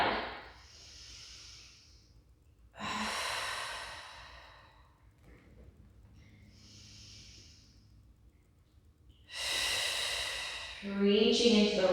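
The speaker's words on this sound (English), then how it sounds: "One more deep breath." Slow deep breaths during a yoga banana pose in a tower class: long audible inhales and sighing exhales, close and breathy, repeating several times with quiet gaps between.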